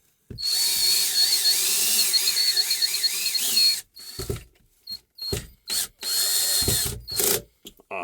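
A power drill drives a screw into a cable hook in a studio shop: one long, steady whine with wavering pitch for about three and a half seconds, then several short, sharp bursts of the motor, close and loud.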